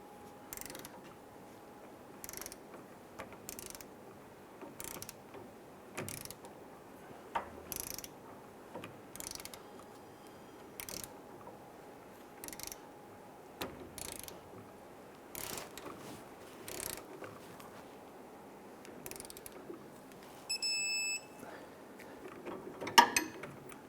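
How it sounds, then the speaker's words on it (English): A ratchet wrench torquing a front shock bolt on a 2005-2010 Chrysler 300 clicks in quick repeated bursts, close and clear in a quiet workshop, ending with a firmer metallic clunk. "We're going to use our wrench here, and we're going to go ahead and torque this down to 128 foot-pounds."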